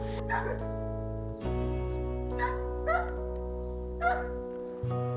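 Stray dogs barking in a few short, scattered bursts, fairly faint, over a steady droning musical background.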